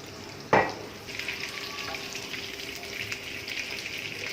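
Oil and melted butter heat in a pan before chicken liver goes in, a sharp clatter at the start followed by a steady, moderately close sizzle and crackle with no talking.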